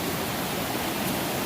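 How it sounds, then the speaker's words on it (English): Fast river water rushes steadily past an inside bend of the East Fork, a close, loud, unbroken wash of broadband noise with no voices. "Water's ripping through here pretty good."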